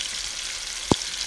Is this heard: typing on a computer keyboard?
no